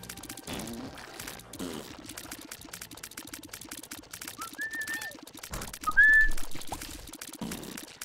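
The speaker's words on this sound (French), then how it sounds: "Je vous ai bien niqué les oreilles en sifflant." A person whistles a few short, clear melodic phrases over steady Binding of Isaac: Repentance game music, the whistling rising loudest near the end.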